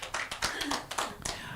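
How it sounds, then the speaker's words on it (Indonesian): A church congregation claps for Jesus during a Sunday worship service, a quick run of sharp, uneven hand claps blending into a close, steady patter. "Tepuk tangan buat Yesus."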